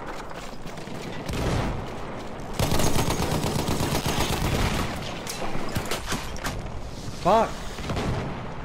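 Battlefield 1 gunfire crackles in dense, rapid volleys with booming shots, loud and close, as someone shouts and talks over the battle noise.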